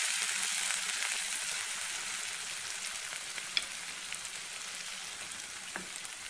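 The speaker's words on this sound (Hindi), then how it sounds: "देखिए हमारा तड़का अच्छी तरीके से पक गया है।" Continuous crackling sizzle of hot oil frying spices with homemade garam masala in a pan for arhar dal tempering, close and steady, with a couple of faint clinks and no talking.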